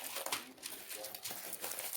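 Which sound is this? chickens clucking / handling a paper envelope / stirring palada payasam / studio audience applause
handling a paper envelope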